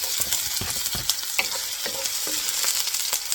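Onion sautéing in oil in a pan gives a close, steady sizzle and crackle, broken by scraping stirs and light clatter from a utensil against the pan.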